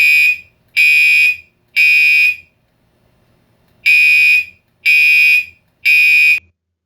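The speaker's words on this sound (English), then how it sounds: "This is what it will sound like if that alarm ever goes off." A loud chlorine plant-wide alarm blares in six evenly spaced, harsh electronic pulses, three then a short gap then three more, with nothing else audible.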